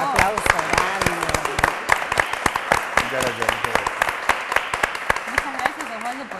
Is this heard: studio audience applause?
yes